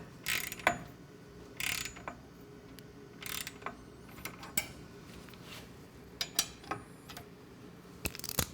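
Wrench and socket tightening engine guard bolts on a Triumph Street Scrambler 900 motorcycle: a series of sharp metallic ratchet clicks and clanks in irregular bursts, close and fairly quiet.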